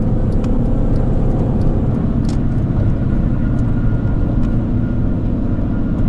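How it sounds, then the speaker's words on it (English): Steady, loud broadband roar of tires on pavement at highway speed inside an R53 Mini Cooper, loudest from the rear, constant and unbroken throughout with no voices. "I can definitely hear a lot of road noise coming from the rear."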